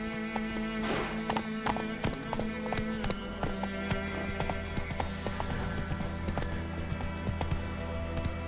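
Roach, a horse in The Witcher 3, gallops steadily with rapid, evenly repeating hoofbeats throughout, set against a continuous bed of game music and ambience, with a brief snort or whinny near the start.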